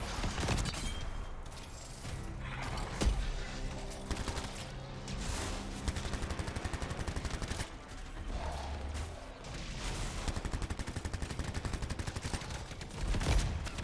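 Machine pistol firing in the shooter game Anthem, rapid bursts of sharp shots in quick rhythmic volleys, repeated several times over clattering mechanical effects and explosions, loud and close.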